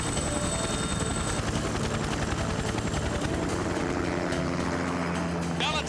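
A helicopter hovers close overhead in a TV drama scene, its rotor downwash making a loud, continuous whooshing roar mixed with music and effects, ending in a brief rising whine.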